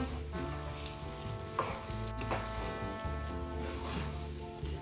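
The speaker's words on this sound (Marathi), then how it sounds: "आता आपल्याला ही डाळ छान मिक्स करून घ्यायची आहे तुपामध्ये" Mung dal being stirred and roasted in ghee over a low flame, a quiet continuous crackling sizzle with scattered scraping stirs and faint background hum, no talk.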